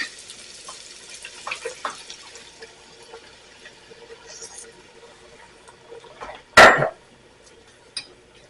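Beef stock is poured into a pot of caramelized onions. A faint trickle gives way to a brief, louder splashing pour near the end, followed by a small clink.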